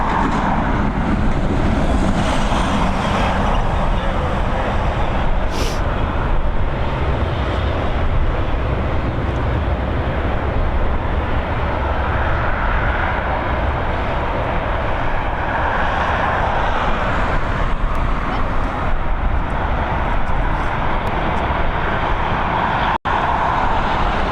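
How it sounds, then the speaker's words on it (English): A Boeing 737 arriving from Budapest descends toward Dublin Airport's runway 28L in the evening, its engine roar steady and continuous, loud and broad throughout with no talk. "The 737 now on its final stages of descent as well. This one coming in from Budapest."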